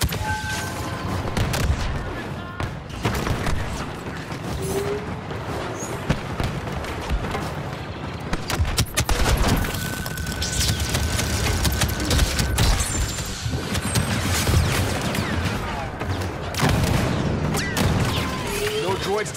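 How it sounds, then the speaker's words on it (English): Dense, continuous blaster fire and explosions from a Star Wars battle game on Kamino, with rapid overlapping shots and booms filling the whole stretch, and voices speaking amid the chaos. "Like a little blaster fire."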